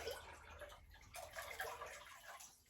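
Water from a tower garden's hydroponic reservoir poured back into the tower, a continuous splashing and gurgling pour filling nearly three seconds at close range, with no talk over it.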